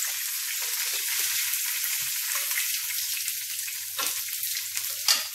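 Pieces of veal oxtail sear in hot oil in a pan, a steady, close hiss of sizzling with crackling pops and a few sharper spits, no voices over it.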